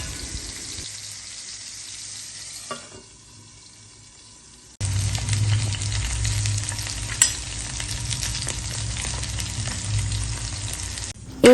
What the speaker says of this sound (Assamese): এতিয়া মই এইখিনি ভাজিম মই কেৰাহীত ভাজি আছোঁ অকণমান ডিপ ফ্ৰাই কৰিম